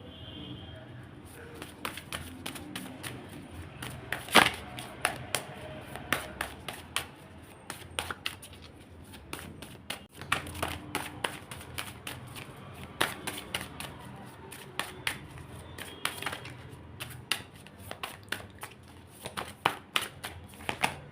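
Tarot cards shuffled and drawn at a reading table, giving a steady run of soft papery flicks and taps with a few sharper snaps, close and fairly quiet, with low murmuring talk in the background.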